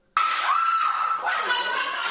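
A store worker lets out a sudden, loud, sustained scream, close by and unbroken, as robbers force their way into the shop, one of them carrying a sledgehammer.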